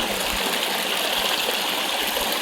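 A stream of water pours down Osam hill in Patanvav, Gujarat, a loud, steady, close gushing rush with no breaks and no voices.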